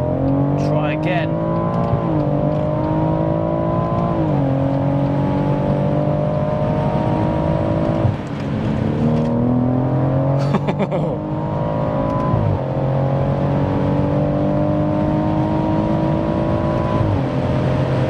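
A tuned 730 bhp BMW M140i accelerates hard at high speed, its engine climbing steadily through the revs with repeated short drops at gear changes, loud and close from inside the car, with wind and road noise underneath.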